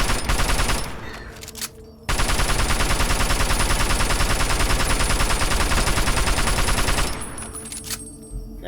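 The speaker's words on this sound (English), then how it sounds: "But I made it more bam, bam, bam. Like an actual machine gun." A modded machine gun in Fallout New Vegas fires a loud, rapid, continuous burst of about five seconds, with a few shorter gunshots before and after.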